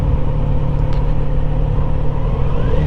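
A Kawasaki Z900RS motorcycle rides over pea gravel on Howard's Lick Road, a West Virginia backroad. A close, steady engine rumble is mixed with a rough, continuous road noise.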